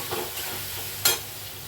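Ground spices and turmeric sizzle in hot oil in a pan over a lowered flame for a home-style potato curry, a steady soft frying hiss with a brief sharper crackle burst midway.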